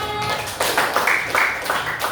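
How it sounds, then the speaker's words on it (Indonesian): Classroom applause for a student group after an Indonesian-language teaching-exam presentation: a short, dense burst of many hands clapping at once, steady and fairly close, with no talking over it. "Tepuk tangan semuanya."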